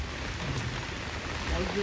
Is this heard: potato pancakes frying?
no